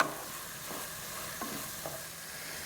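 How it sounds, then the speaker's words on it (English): Risotto rice mixture bubbling in a pan while it reduces on the heat, a steady soft crackling sizzle with a few faint stirring scrapes, alone and fairly quiet. "I'm going to let this bubble. You can see it's bubbling"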